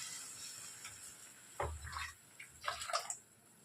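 A tumbler of water splashes into simmering curry paste in a home kitchen, heard as a few short, fairly quiet pouring bursts over a low background hiss.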